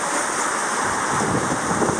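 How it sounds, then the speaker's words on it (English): Ocean waves rolling in toward shore make a continuous, fairly loud roaring wash, mixed with gusts of wind buffeting the microphone, and no one speaks. "these waves are rolling in from the ocean"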